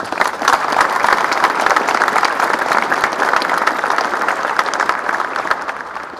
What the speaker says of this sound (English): please give the Board of Legislators a round of applause